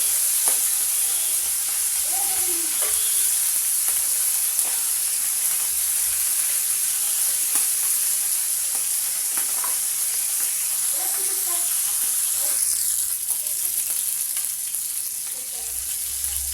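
Fish frying in a pan of hot oil, a continuous close hiss of sizzling with occasional faint clinks and shifts, steady and unbroken for the full length.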